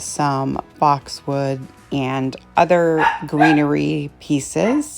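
Dogs bark repeatedly in sharp, loud yaps that overlap with a person talking during spring floral DIY crafting.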